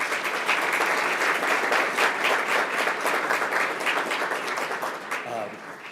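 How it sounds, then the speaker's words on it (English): Audience at a school board meeting claps for a scholarship presenter walking to the podium, sustained applause from a roomful of people that fades near the end. "Let's welcome him to the podium with a round of applause."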